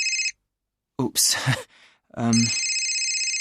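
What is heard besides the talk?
mobile phone ringing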